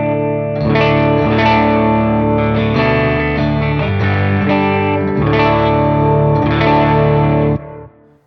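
Clean electric guitar through a Line 6 Helix patch matched to a PRS MT15 Tremonti amp, no chorus, strummed chords ringing loud and sustained with reverb tails, several chord changes, alone.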